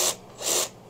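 A hand ratchet turning on an Edelbrock carburetor during a tune-up on a 1973 Ford Econoline, giving a second of close, rasping clicks in two brief bursts.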